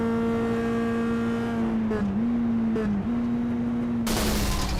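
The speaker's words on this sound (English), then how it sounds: "Skip Brock, I believe, had an engine let go on him" A race car engine lets go in the iRacing sim at Indianapolis: a steady high engine drone with two brief stumbles, then a sudden loud burst of harsh noise near the end.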